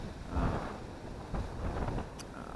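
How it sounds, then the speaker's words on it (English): Gusty wind buffets the microphone in low rumbling bursts, with two stronger gusts and a faint hiss between them. "it's windy, it's cold"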